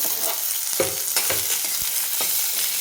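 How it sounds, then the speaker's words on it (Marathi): Vertically sliced onion sautés in hot oil, giving a steady close sizzle with a few stirring scrapes through it and no talking. "तो टाकून घेऊ. त्याला पण आपल्याला 2 मिनिट परतून घ्यायचं."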